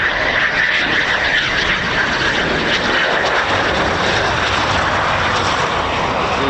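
Loud, continuous roar of an RAF Typhoon FGR4 jet at an RAF station, a broad sustained engine rush with a whining tone riding on top, heard close and filling the whole moment.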